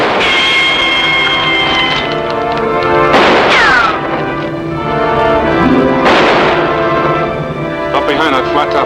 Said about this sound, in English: He's still firing high.